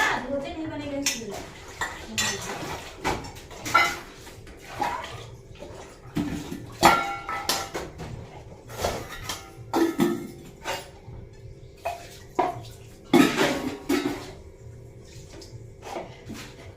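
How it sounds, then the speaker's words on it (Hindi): Tea dishes are washed by hand with water in a village home, with clinking pots and cutlery, splashing and scraping in uneven bursts, and voices talking in the background. "चाय के थोड़े मोड़े बर्तन थे तो वो ये धोने लगी।"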